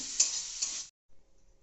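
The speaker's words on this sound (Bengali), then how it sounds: "দেখছেন চিংড়ি মাছটা ভাজা হচ্ছে পরিমাণ মতো নুন দেওয়া হলো পরিমাণ মতন হলুদ দেওয়া হলো" Shrimp fry in oil with salt and turmeric, giving a close, bright sizzle with a couple of stirring bumps. It stops abruptly and a faint quiet tail follows.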